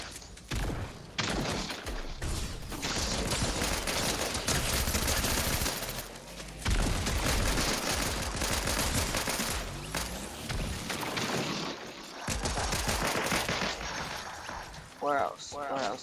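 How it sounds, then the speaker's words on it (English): Rapid, heavy gunfire from the video game Fortnite keeps up in long dense bursts with thuds and crashes, broken by brief pauses, while a player's voice talks over the shooting. "so we're getting shot"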